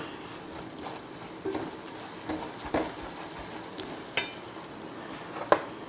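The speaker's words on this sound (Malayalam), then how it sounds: "കാശ്മീരി ചില്ലി പൗഡർ ചേർക്കാം കേട്ടോ അപ്പം ഞാൻ വിട്ടുപോയിരുന്നു നന്നായി മൂപ്പിച്ചെടുക്കാം" Kashmiri chili powder sautéing in a pan for a Thrissur-style beef and tapioca curry: a soft, steady sizzle with occasional light clicks and taps of a spoon against the pan, quiet and without talk.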